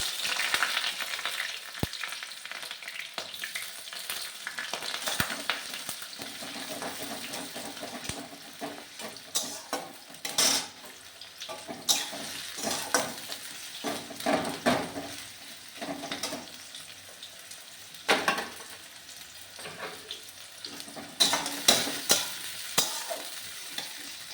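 Onions hit hot oil with garam masala in a pan, a moderate sizzle punctuated by repeated stirring scrapes and spatula knocks that come in irregular bursts.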